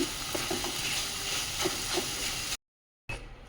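Vegetables stirred in a hot frying pan with spices, giving a steady sizzling hiss and soft scraping strokes for a few seconds before a brief cut to silence, then the sizzle returns.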